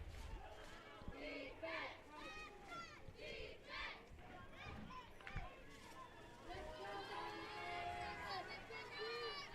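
The home crowd at a North Salem Vikings high school football game against North Medford cheers and shouts from the stands, a steady far-off roar with voices rising over it.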